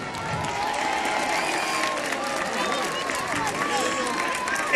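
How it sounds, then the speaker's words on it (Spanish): Crowd applause at a Three Kings parade in Pola de Lena, steady dense clapping filling the whole stretch with faint cheering mixed in, fairly close and loud. "Y a estos reyes que han venido les damos ahora un fuerte aplauso."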